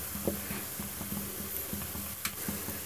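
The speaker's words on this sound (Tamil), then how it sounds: "அது வரைக்கும் நல்லா வதக்கி விடுங்க" Small onions sautéing in oil for a traditional onion pickle, a steady bright sizzle with a rhythmic series of soft utensil scrapes and taps as they are stirred in the pan.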